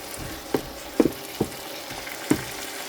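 Tomato purée and stock frying in a pan, a soft steady sizzle broken by a few sharp taps of a utensil against the pan, with no voices.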